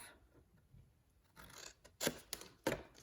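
Scissors snip through paper for a Stampin' Up Halloween craft box, a few quiet cuts building to two sharper, louder snips near the end, close by with no talking.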